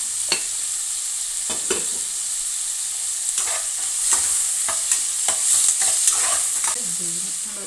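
Tomatoes cooking in a pan with salt for a gori kayi palya, a constant bright sizzle broken by a series of sharp scraping and clinking strokes as a utensil stirs them, all close and fairly loud.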